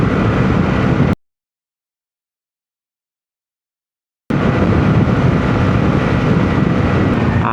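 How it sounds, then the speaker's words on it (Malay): A 2021 Honda Wave 125i V2 motorcycle at top speed gives a loud, constant engine roar mixed with heavy wind rush, cut by a few seconds of complete silence before the roar resumes. "itu je lah kita punya top speed maksimum untuk motosikal Honda Wave 125i V2 ini tahun 2021"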